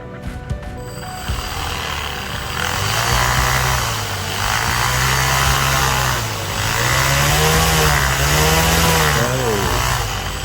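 A brushless BLDC quadcopter drone motor spins at full thrust, giving a loud, constant buzzing whine that rises and falls in pitch as it runs for the whole stretch.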